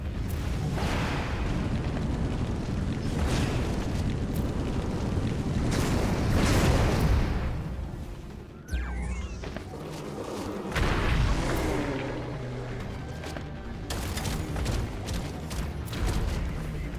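Booming explosions as a base is destroyed in the Dust Walkers strategy roguelike, with heavy rumbling blasts rolling one after another, a brief lull, then more scattered thuds and crackling debris.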